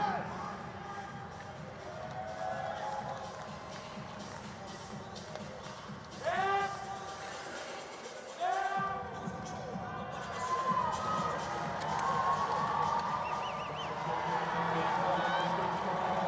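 Spectators at a speed skating World Cup race in Salt Lake City rise and cheer, a broad roar of crowd noise swelling through the arena and building toward the end, with a commentator talking over it.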